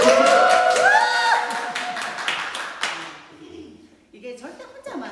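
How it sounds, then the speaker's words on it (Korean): An audience at a sales meeting gives a short round of clapping mixed with a voice. The applause fades over about three seconds and speech follows. "박수 한번 주세요."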